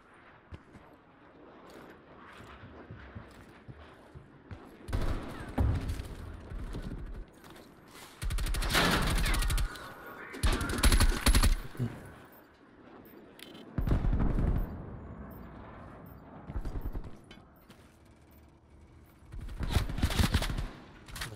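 Suppressed KSP gunfire in Call of Duty: Black Ops Search and Destroy comes as several muffled rapid bursts, some long and sustained, some short, close up amid quieter game ambience between volleys.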